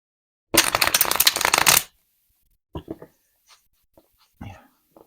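A deck of playing cards is riffled in one quick, crisp burst, followed by a few soft taps and shuffling handling sounds.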